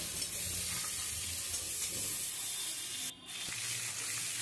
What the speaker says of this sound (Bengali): ফুলকপি আর আলুটা হলুদ নুন দিয়ে দিয়েছি, দেখুন খুব ভালো করে ভাজতে হবে।